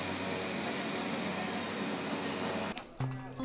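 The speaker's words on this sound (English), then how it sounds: "The scene of flight landing and taking off at Lukla Airport" An airplane at Lukla Airport in the Nepal Himalaya gives a loud, steady engine roar that holds constant and then drops off abruptly near the end, leaving a brief quieter hum.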